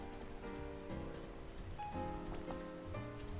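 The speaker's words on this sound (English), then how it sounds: "I say as it starts raining." Steady rain falls in a video game, a constant hiss of drops on surfaces with soft game music tones over it and no talking.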